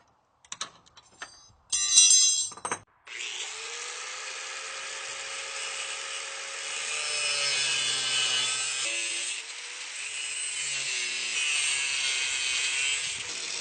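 A corded angle grinder with a cutting disc bites through metal, first in a few short bursts, then in a long, loud, continuous whine and grind that shifts pitch slightly as the cut goes on.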